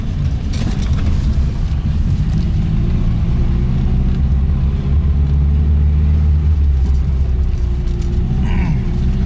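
ZAZ 968M Zaporozhets car driving with no working brakes and a fogged-up interior, its engine a loud, steady rumble with road noise heard from inside the cabin throughout.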